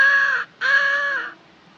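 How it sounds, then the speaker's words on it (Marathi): A crow caws twice near a temple in Rajapur, two loud, harsh, drawn-out calls separated by a brief pause, close and clear with no talk. "तो कावळा खाली दिसत नाही पण तो शूटिंगची वाट लावेल"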